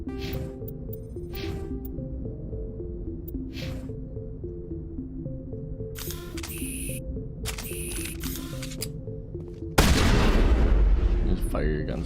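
Starship guns fire in the video game Mass Effect, with a string of sharp synthetic blasts over a droning electronic score, ending in a heavier, louder burst of noise.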